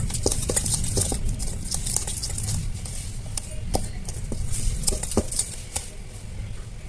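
Banana cake batter being stirred in a bowl makes a continuous wet, sloshing, scraping patter close by, with irregular light clicks of the utensil against the bowl throughout.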